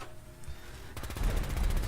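A modded gatling plasma gun in Fallout 4 opens up after a quiet moment, loud rapid-fire shots pulsing in a steady rhythm through the second half.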